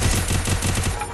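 Rapid gunfire in the Free Fire battle royale game, a short dense burst of repeated shots, loud and close, heard without talking.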